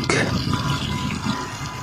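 Continuous rushing splash of water from a pressure washer hitting the inside of a tank being cleaned, dense and loud throughout with slight surges, a faint voice underneath.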